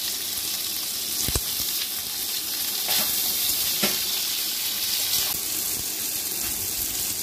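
Boiled chicken pieces with chopped capsicum and tomato hiss and sizzle in a hot pan, a steady close-up crackle with a few sharper clinks of stirring, and no voices.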